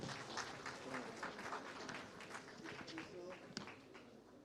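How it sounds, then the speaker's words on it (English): Audience at a road-safety AI conference applauds as a speaker is called to the stage, a steady broadband clapping that fills the whole moment with a brief sharp peak near the end. "A big round of applause"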